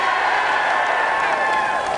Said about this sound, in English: I want you to cheer for this one.